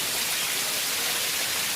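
Rain falls in a steady, even hiss with no breaks, a broad wash of droplets without voices.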